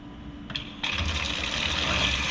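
Water from a lab sink rushes through the tube of a vacuum sidearm setup, starting with a couple of brief clicks and then swelling into a steady hiss and gurgle that continues to the end.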